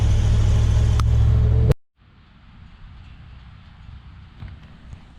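A truck whose engine had been running poorly rumbles loudly for under two seconds, then cuts abruptly to a quiet, low outdoor background.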